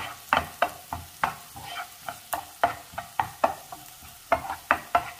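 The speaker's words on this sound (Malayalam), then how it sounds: "അതിലേക്ക് ബാക്കി വെച്ചിരിക്കുന്ന മഞ്ഞൾപ്പൊടി ചേർക്കാം. മഞ്ഞൾപ്പൊടിയായ എണ്ണയിൽ കിടന്നൊന്ന് മുരിഞ്ഞ് വരണം." Onion and turmeric powder fry in oil for a drumstick and egg thoran, with a spatula scraping the pan in quick, regular strokes over a soft, continuous sizzle, close and without talk.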